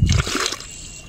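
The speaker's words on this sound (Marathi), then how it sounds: "आता हे पाणी भरून घेऊन जायचं बादलीमध्ये" Cold natural spring water splashes into a bucket in a short close burst, then settles into a fainter trickle.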